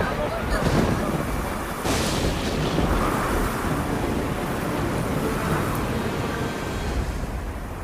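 Film sound effect of a storm flooding a village, a continuous roaring rush of wind and surging water with heavy rumbling bursts, loud and unbroken throughout.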